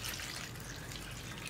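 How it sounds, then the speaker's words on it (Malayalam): A cup of water is poured into a pot of vegetables for a vegetable curry, giving a short, quiet, steady splashing pour with no one talking. "ഇതിലേക്ക് 1 കപ്പ് വെള്ളം ചേർക്കുന്നുണ്ട്."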